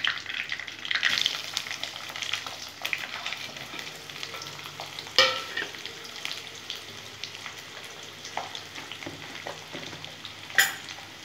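Onions fry with salt in a pan, a soft sizzle under repeated stirring scrapes, with a couple of sharper clacks of the spoon against the pan.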